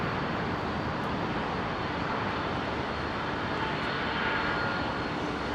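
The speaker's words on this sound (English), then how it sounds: "DHL 767, in from Cincinnati" DHL Boeing 767 cargo jet in from Cincinnati at Heathrow, a continuous even engine rumble at a fairly distant, steady level through the short stretch.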